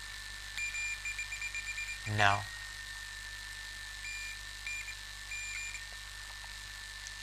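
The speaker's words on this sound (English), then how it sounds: "there is a beep sound" A multimeter's continuity beeper sounds while probing the pins of an electronic door lock: a steady, thin electronic tone running under a man's speech, with brief handling clicks.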